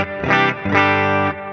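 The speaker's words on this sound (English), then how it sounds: "I'm going to choose the concert hall reverb." Electric guitar played through a Hotone Ampero II Stage multi-effects unit with a concert hall reverb, two distorted sustained chords ringing out with a spacious, lingering tail, loud and alone.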